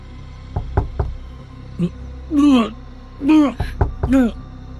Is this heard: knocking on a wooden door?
yes